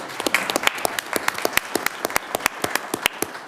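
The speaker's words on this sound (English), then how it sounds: "Just give this young man a round of applause." Applause at a county board of commissioners meeting, a thin scatter of sharp, distinct hand claps from a small group, fairly close and rhythmically uneven.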